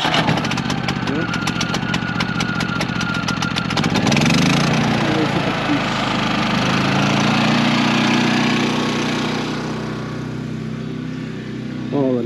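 A small inverter generator engine starts up partway through and settles into a steady, fairly quiet idle, with brief talk over it at the start.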